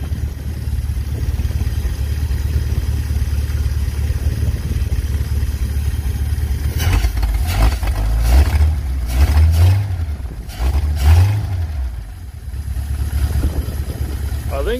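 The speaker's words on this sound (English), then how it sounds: "I'll give her a couple revs." A 1951 Pontiac Chieftain with a broken-off exhaust idles loudly, then gets a couple of quick revs that swell and fall back, its rumble running throughout with people talking faintly.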